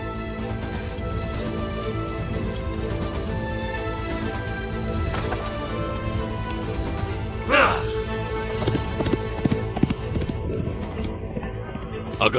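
Horse hooves clip-clop and run across the ground in a dubbed battle drama, with a busy rhythmic patter beneath a dense layer of music, effects and voices throughout.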